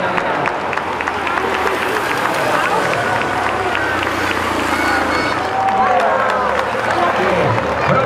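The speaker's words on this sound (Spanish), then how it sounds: "Ya con las manos, con las palmas." Roadside crowd clapping at a cycling race, a dense run of rhythmic claps and cheering close by, with a voice talking over it.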